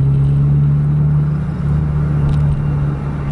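Engine drone of JRG and Sempati Star buses racing along the Banda–Medan highway, a steady loud low hum with no breaks and no voices.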